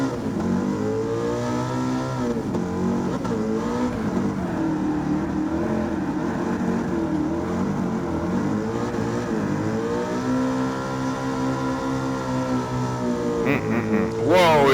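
A race car engine in Gran Turismo 7 at Road Atlanta holds a steady loud drone with rising and falling revs, dipping as the engine is pulled down, then climbing again near the end.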